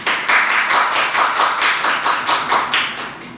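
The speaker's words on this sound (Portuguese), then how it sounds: "Pode aplaudir o Senhor," Church congregation clapping in a close, regular rhythm, loud and evenly paced beats repeating several times a second.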